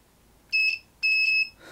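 A multimeter sounds its continuity beep twice while testing a battery contact in a Sony MZ-N707 MiniDisc player under repair: two clear, fairly loud high-pitched tones, each about half a second long, close by.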